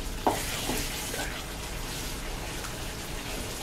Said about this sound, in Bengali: মশলাটা একটু ভালো করে ভেজে নেবেন